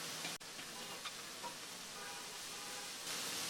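Onions with chopped spring onion greens fry in a pan, a soft continuous sizzle broken by a few light stirring scrapes, close and fairly quiet.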